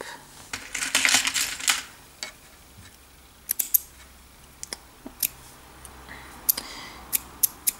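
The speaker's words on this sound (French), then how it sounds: "J'ai les ciseaux qui fatiguent." Scissors snip crochet yarn at the end of finished rows, a dense burst of metallic cutting followed by a string of sharp, separate clicks of the blades, close and fairly quiet with no talk.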